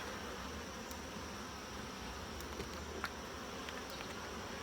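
Honeybees hum steadily at an open hive during an inspection of frames with capped honey and partly drawn comb, a constant even buzz with no talking.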